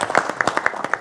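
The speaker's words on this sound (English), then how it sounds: "for first timers, I think they deserve a round of applause." A short burst of clapping from a small group applauding first-time presenters, several quick close claps in an uneven rhythm lasting about a second.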